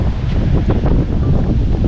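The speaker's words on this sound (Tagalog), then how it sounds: "Bigla na lang naging mahangin." Strong gusting wind buffeting the microphone on the Dingalan coast in Quezon, a steady loud roar with no voices.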